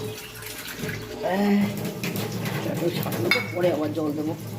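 A kitchen tap runs with a splashing, fluctuating rush of water while someone talks over it.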